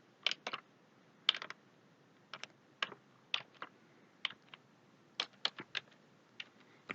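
Typing on a computer keyboard nearby, short bursts of crisp key clicks in irregular clusters separated by brief pauses, with no talking.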